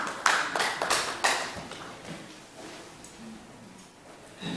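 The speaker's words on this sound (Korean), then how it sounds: "큰 박수 부탁드립니다." A few loud separate claps from an audience at a Korean book event with lawmakers, quickly fading into a faint, thin patter of applause.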